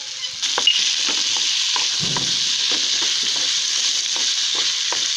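Salt and chili powder being stirred into carrot chutney in a hot pan, with a steady sizzle and a scatter of light scraping strokes from the spoon throughout, and no talking.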